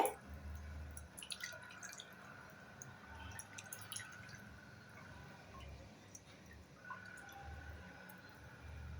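Water drips from a cloth bundle of freshly curdled homemade paneer as it is squeezed, giving soft, scattered, irregular drops and faint wet squishes over a quiet kitchen background.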